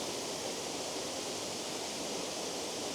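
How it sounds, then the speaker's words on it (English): Tianna Falls, a small waterfall, giving a steady, even rush of falling water, soft and continuous with no other sounds. "It's a nice wee waterfall."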